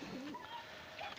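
Pigeons in a loft beside their eggs give soft low cooing calls, faint and brief against quiet room noise.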